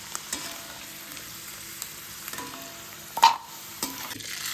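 Peanuts and roasted chana dal fry and are stirred in a pan for poha chivda, giving a faint steady sizzle broken by scattered soft scrapes and one sharper clatter.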